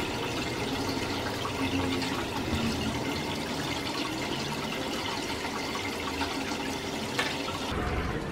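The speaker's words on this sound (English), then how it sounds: "Now we have to fill it with water so it remains in its horizontal position." Water runs into a container for a gravity-fed aquarium refill setup, a continuous hissing, splashing flow heard steadily throughout at moderate level.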